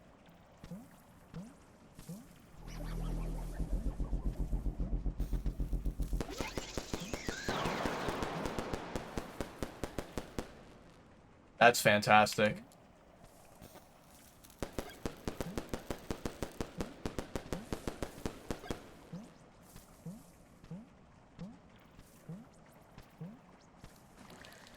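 A firecracker goes off in the video game Animal Well as a short, loud crackling burst that stands out among rhythmic footstep-like game sounds and splashy noises, with a brief spoken remark nearby.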